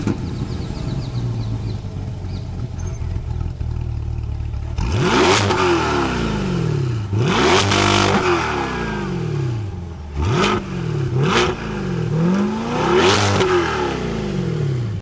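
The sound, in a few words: 2022 Corvette C8 Stingray exhaust revving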